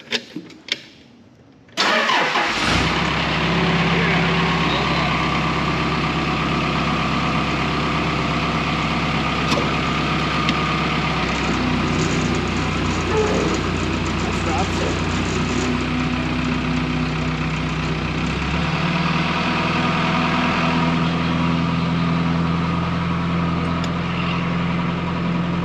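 An aircraft tug engine cranks and catches after a short pause, then settles into a steady, loud mid-pitched idle that rumbles on close by for over twenty seconds with no talk.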